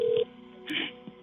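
Telephone dialing tones during an emergency call being transferred to an ambulance service, with a short steady tone, then a burst of line tones and a faint click, heard close over a phone line.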